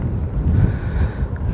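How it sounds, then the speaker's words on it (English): Wind blowing across a hilltop under dark clouds buffets the microphone, a steady low roar with gusts swelling and easing throughout, close and fairly loud, with no voices. "it's also quite windy up here, as always."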